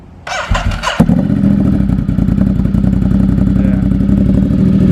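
Custom Monster 1200 motorcycle engine cranks over briefly, catches and starts, then settles into a loud, steady, close idle with a rhythmic thumping pulse.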